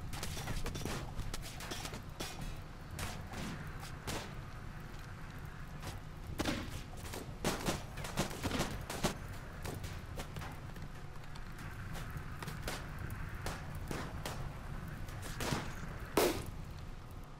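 Rimworld colony defense against a swarm: gunfire crackles in irregular shots and short bursts throughout, fairly faint and distant, over a steady low background.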